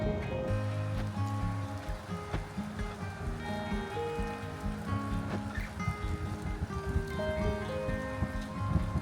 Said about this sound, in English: And here comes more rain.